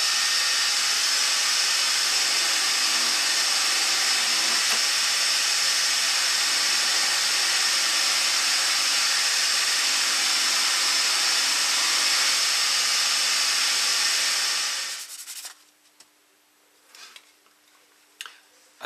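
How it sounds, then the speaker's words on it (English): A steady, loud whirring drone of a buffing wheel polishing a purple heart wooden bowl, running unbroken for about fifteen seconds before cutting off, leaving a faint hum and a few small knocks. "you can use a buffing wheel to buff up the piece"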